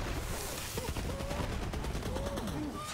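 The Polybius weapon in Borderlands 3 fires rapid bursts of shots, a dense crackling volley lasting a few seconds at moderate loudness, with faint game tones in the background.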